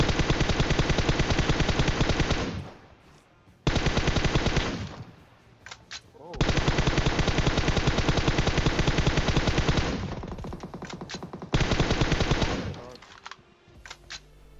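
Gunfire in the PUBG Mobile video game comes as long, loud, rapid bursts of shots separated by brief pauses, close and dense, with a few isolated cracks in the gaps.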